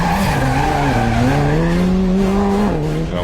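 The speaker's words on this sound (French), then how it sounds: "On fait un tête à queue" A rally car spins around on a French championship stage, tires skidding in one continuous loud squeal with the engine note wavering underneath, close and unbroken for a few seconds.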